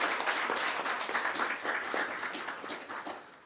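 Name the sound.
audience applause for the students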